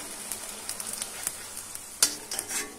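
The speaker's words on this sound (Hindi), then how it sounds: "इस तरह से हमें कड़ा होने तक के लिए फ्राई करना होगा" Pani puri shells crisping in hot oil, a close, quiet continuous sizzle punctuated by light scraping and stirring clicks, with a few sharper bursts toward the end.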